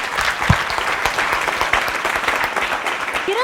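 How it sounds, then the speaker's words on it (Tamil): A hall audience breaks into dense, sustained applause at a Tamil oratory event where a student speaks on the Thirukkural. The clapping stays loud and steady throughout, with no speech over it. "எங்க ஒரு அரங்கம் நிறைந்த கைத்தட்டல் கொடுத்துருங்க."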